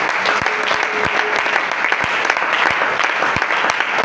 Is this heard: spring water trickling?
no